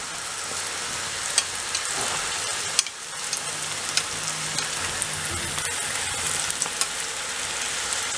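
Pişi, puffed dough pieces, frying in hot oil, a steady dense sizzle with occasional sharp pops and crackles throughout, close and continuous with no talk.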